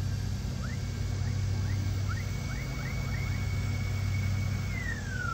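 Electric motors on a homemade eVTOL flying car spin up in a series of rising whines that climb to a steady high tone and then wind down, heard over a constant low rumble.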